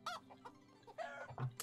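Hens clucking in the farming game Medieval Dynasty: several short, bright clucks in quick bursts, fairly close, with a low farmyard ambience beneath and no talking.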